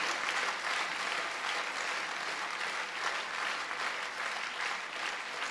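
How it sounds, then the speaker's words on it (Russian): Congregation applauding during a church service, a full, even roll of many hands clapping that holds steady for several seconds with no speech over it. "Давайте мы еще нашими аплодисментами будем поддерживать наших братьев и сестер."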